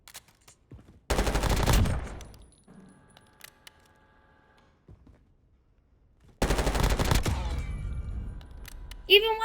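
Video game gunfire as an enemy is shot: two loud, rapid bursts of shots separated by a stretch of near silence with faint metallic clicks, the second burst trailing into scattered clinks.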